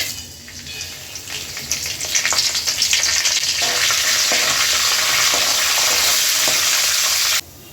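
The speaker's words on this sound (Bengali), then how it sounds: "গরম তেলে দিয়ে দিব তেজপাতা, আস্ত জিরা, লবঙ্গ, দারচিনি আর এলাচ তেলের মধ্যে দিয়ে দিব" Whole spices (bay leaf, cumin seeds, cloves, cinnamon and cardamom) fry in hot oil in a pan, a steady loud sizzle that swells after a couple of seconds and crackles on without pause until it cuts off abruptly.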